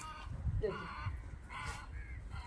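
Crows caw a few times at a distance, faint and scattered, over soft outdoor background noise on a mangrove shore.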